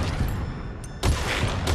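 Gunfire in Metal Gear Solid V: The Phantom Pain, a sustained barrage of loud, dense shots that drops out briefly mid-clip, then bursts back in close and heavy.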